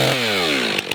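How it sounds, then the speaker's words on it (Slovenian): Chainsaw running at a steady high whine while cutting into a standing tree to mark the felling cut, loud and close, the engine pitch sliding as the chain bites, then easing off near the end with a couple of brief knocks. "Mi ponavadi z motorno žago to označimo."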